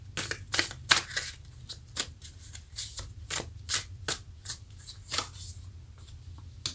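Tarot cards are shuffled by hand, a string of crisp riffling bursts and soft slaps in an irregular rhythm, close and fairly quiet, with no talking.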